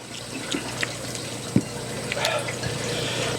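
Drinking water runs into a glass during a home-cooked meal in a rural setting, a short close trickle of pouring liquid over light background room noise.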